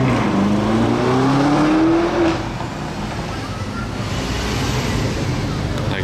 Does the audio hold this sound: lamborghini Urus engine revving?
yes